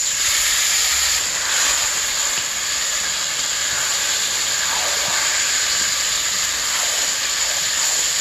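Marinated goat meat added to fried onions in a pot on a clay stove, giving a loud, steady sizzling hiss that continues without a break.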